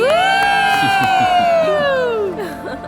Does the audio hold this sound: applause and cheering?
yes